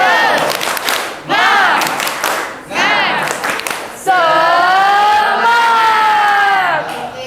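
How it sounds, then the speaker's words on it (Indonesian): A classroom group of adult teacher trainees performs a rhythmic spirit clap with chanted shouts, bursts of clapping and voices rising and falling, ending in a sustained sung-out call. "Sebelumnya tepuk semangat."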